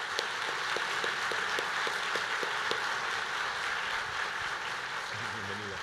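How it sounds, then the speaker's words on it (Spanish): An audience applauds to welcome a speaker at a church gathering, a steady dense patter of many hands at moderate distance, with a few sharper claps early on and faint voices emerging near the end. "recíbela con un fuerte aplauso"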